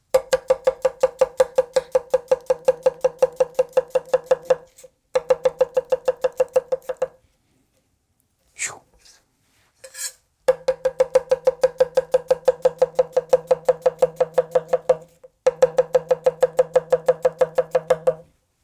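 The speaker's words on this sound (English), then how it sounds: "putting it to use with various cutting techniques so you can see the blade in action, getting started with some onion julienne" A Zuma chef's knife chops onion into julienne strips, a quick, steady run of sharp knife taps on a cutting board, broken by brief pauses and a short clatter before the rhythmic cutting resumes, close and alone with no talk.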